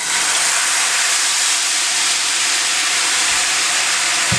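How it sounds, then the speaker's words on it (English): Salmon sauce hits a hot pan and sizzles in a loud, steady, dense hiss that holds unbroken throughout. "Now we're just going to add in our sauce."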